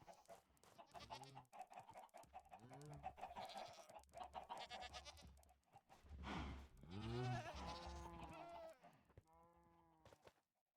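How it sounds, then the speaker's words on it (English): Several Minecraft goats bleat in overlapping bursts, loud and near, with other farm-animal clucks mixed in and a steady game hum underneath; the bleats pile up in the middle and trail off at the end. "There are more goats now."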